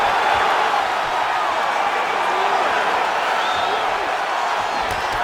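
An arena crowd in the UFC 5 fighting game roars steadily during the fourth round of a bantamweight tournament final, a loud, continuous wash of cheering and murmur with no pauses.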